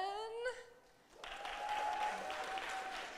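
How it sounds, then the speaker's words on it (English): A short vocal note fades out, then a burst of applause from a high school concert audience begins and holds steady, loud and close, with a faint sustained tone inside it. "I want to give one more round of applause to our three soloists"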